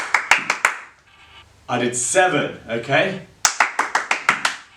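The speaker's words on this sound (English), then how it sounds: "What you can then start doing is start adding claps into it." Sharp, close hand claps in quick bursts during a tennis ball-catching drill, a run of four crisp claps, a pause while someone speaks, then a faster string of about eight claps.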